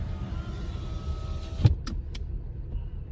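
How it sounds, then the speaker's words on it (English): A car's electric power window motor whirs briefly as the window rolls up, a short mechanical hum over steady road and engine rumble inside the moving car. "I'll just roll up the window"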